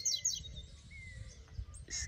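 Slate-colored seedeater (coleiro) singing outdoors in the wild, faint short chirps and whistled notes at a distance over low background rumble.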